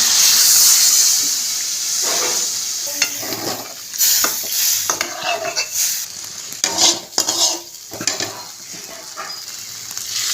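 Papaya and green chilli curry frying in a pot, a quiet sizzle under repeated scraping and stirring clinks of a spoon, then a splash as water is poured in.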